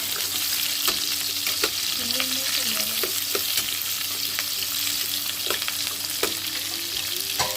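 Onions, green chillies, tomatoes and garlic fry in hot oil with a constant loud sizzle, broken by periodic scraping and clinking as a spoon stirs the pan, close and continuous.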